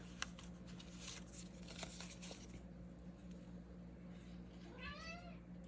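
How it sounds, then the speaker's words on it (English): A house cat gives a short rising meow near the end, heard close over a steady low hum and light rustling of craft materials at a crafting table. "Oh, hello, kitty."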